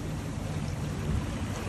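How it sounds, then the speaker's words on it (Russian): Powerful ocean waves at a beach in Newport crash and wash continuously, a dense, loud roar of surf with no voices. "Смотрите, какая волна мощная."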